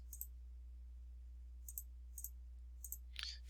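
Computer mouse clicking in drafting software, a handful of quiet, sharp clicks spaced irregularly over a low steady hum, close and isolated with no speech.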